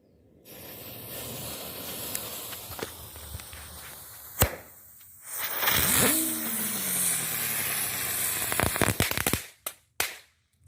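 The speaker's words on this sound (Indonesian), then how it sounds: "kita nyalakan 3 buah petasan bunga teratai" Three lotus flower firecrackers are lit in turn, giving a sharp bang and then a long fizzing, whistling hiss that sweeps upward, followed by a cluster of crackling pops near the end.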